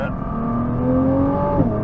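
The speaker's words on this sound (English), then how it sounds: "the exhaust, the induction noise, and just getting off the throttle, the exhaust coming down right from the highs, and those pops" A 2023 Nissan GT-R engine drones steadily at close range, its exhaust note falling from high revs as the throttle lifts, with induction noise underneath and a short blip near the end.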